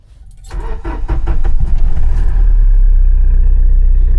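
A Tata Safari Dicor 2.2 SUV on a brand new battery cranks briefly, fires and rises into a loud, rumbling idle up close, with a light metallic jingle early on and no talking.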